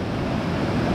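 Strong wind buffets the microphone high on Cader Idris along the Minffordd path, a loud, continuous roaring rush with no pause for the whole second.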